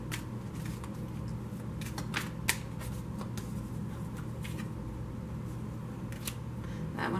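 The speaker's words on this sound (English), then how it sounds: "I'm going to start shuffling the next deck." Tarot cards shuffled by hand in a quiet room, a steady soft riffling with crisp, close flicks and snaps scattered through it, heard alone over faint low background hum.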